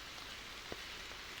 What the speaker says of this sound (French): Il pleut, c'est humide, c'est gras.